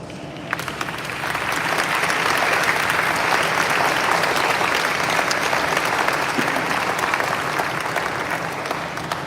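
Town hall audience applause in Troy swells into sustained, dense clapping that holds steady and loud for several seconds, a full room of hands without speech over it.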